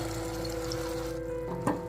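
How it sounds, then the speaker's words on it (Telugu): Hot jaggery water streams steadily into a bowl of dried fruit and nuts for a fruit cake, a close continuous pour ending in a short splash. "ఈ బెల్లం ఇట్లాగా ఈ నీళ్ళు పోసుకుంటున్నాను."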